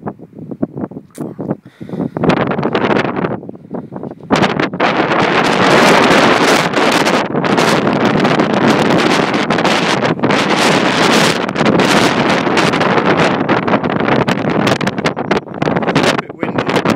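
Strong wind blasts across an island, a loud continuous roar buffeting the microphone for most of the clip, with brief voices early on.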